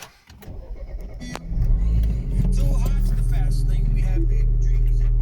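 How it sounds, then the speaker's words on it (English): A BMW Mini Cooper R56 engine cranks and catches, then settles into a steady, loud idle close by, with a brief rev in the first seconds. "I'll just fire the car up so you can see"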